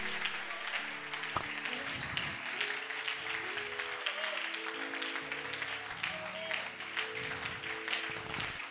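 A church congregation applauds during a lively worship service. Steady, dense clapping runs throughout at moderate level, mixed with singing voices and rhythmic low thumps.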